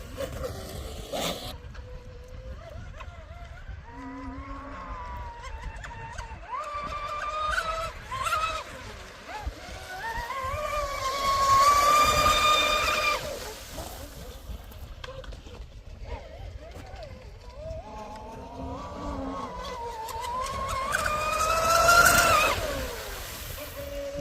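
A brushless RC mono hull boat runs at full throttle on water: a thin motor whine rises to a high pitch twice and then fades, heard from a distance while a person talks nearby.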